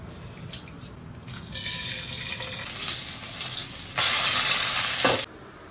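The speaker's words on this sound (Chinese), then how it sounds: "先煎个蛋" An egg frying in a home kitchen pan, a hissing sizzle that swells, jumps louder for about a second near the end, then drops off abruptly.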